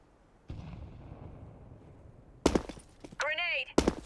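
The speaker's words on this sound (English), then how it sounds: "Throwing a grenade." A grenade detonates in Counter-Strike: Global Offensive with a sudden heavy boom and a decaying rumble. Sharp gunfire cracks follow, and a short warbling game tone sounds before another shot.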